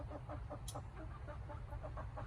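Hens clucking inside a backyard chicken coop and run, a steady cluster of soft, close murmuring calls with one brief higher squawk, no talk over them.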